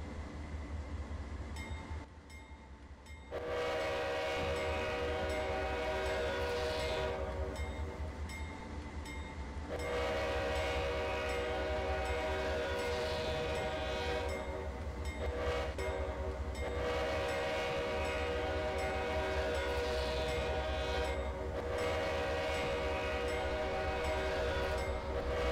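Pacific Surfliner train horn in Train Simulator 2020 leaving San Diego, long loud chord blasts in a crossing pattern over low engine rumble and rail noise, with a brief gap between sounds.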